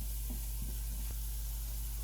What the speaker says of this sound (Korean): 아보카도 오일 2스푼, 썰어 놓은 대파를 넣어서 약불에서